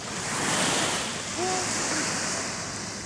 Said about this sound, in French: La plage est à nous. Il n'y a personne.